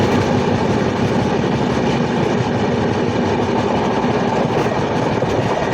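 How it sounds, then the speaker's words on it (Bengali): Garib Rath Express passenger train rolling through Assam near Hojai, a loud, dense, steady rumble of carriages and wheels on rails with faint rhythmic clatter and no talking. "আমাদের ট্রেন আগরতলা থেকে 425 কিলোমিটার পথ অতিক্রম করে এই মুহূর্তে এসে পৌঁছেছে আসাম রাজ্যের হজায়ে"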